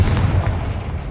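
A Confringo spell explosion in the video game Hogwarts Legacy lands as a loud, dense boom with a heavy low rumble that holds through the whole short moment.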